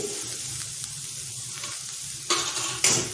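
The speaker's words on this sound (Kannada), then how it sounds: "ಈಗ ಕ್ಯಾರೆಟ್ ತುರಿ ಹಾಕ್ಕೊಳ್ತಾ ಇದ್ದೀನಿ ಇದು ಒಂಚೂರು ಒಂದು ಸುತ್ತು ಕಲಿಸ್ಬಿಟ್ಟು" Grated carrot sizzles steadily in a hot pan for a vegetable snack, with a spatula stirring and scraping through it; a louder burst of frying and stirring comes near the end, close up with no talking.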